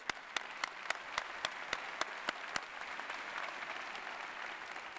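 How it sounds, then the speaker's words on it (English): At a Sun Belt Conference and Coastal Carolina press conference, the room gives quiet applause: a few sharp, evenly spaced claps stand out over a soft wash of clapping that fades after a couple of seconds. "we give them applause"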